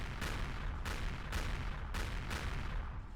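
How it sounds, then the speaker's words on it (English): Four evenly spaced booming explosions from the space game Empyrion Reforged Eden thud in a steady rhythm against a constant low rumble, sounding distant and muffled with no talk. "I heard an explosion."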